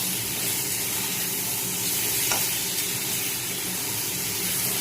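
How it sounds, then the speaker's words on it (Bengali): Chicken pieces with garlic and black pepper fry in a pan, giving a steady, continuous sizzle that holds at an even level throughout, with no talking. "চিকেন ভাজা হতে দিয়েছি দেখতে পাচ্ছ চিকেন ভাজা ভাজা হয়ে গিয়েছে"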